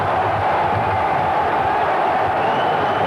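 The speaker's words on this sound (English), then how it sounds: "the crowd are ecstatic" At a 1987 over-30s versus under-30s football match, a crowd roars and cheers for a penalty goal, a dense and loud sustained wash of voices with no pauses.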